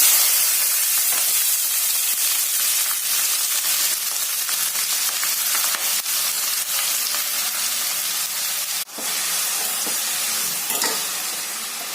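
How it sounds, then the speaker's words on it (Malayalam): Egg bhurji sizzles in a hot pan as green chili and spring onion are sautéed in, a loud, continuous crackling hiss with faint stirring scrapes and one brief dip near the end. "നന്നായിട്ട് വഴറ്റിയെടുക്കാം."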